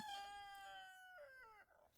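A single rooster crowing, a drawn-out call that is faint and fairly distant.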